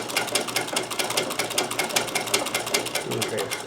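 A Necchi BU Nova sewing machine stitches a buttonhole, giving a fast, steady needle chatter with a mechanical whir, close and continuous throughout.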